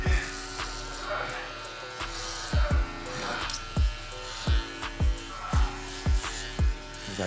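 A Babyliss Gold SnapFX hair trimmer buzzes steadily close up during a taper haircut. Regular sharp clicks and taps cut through the hum, and a voice talks intermittently.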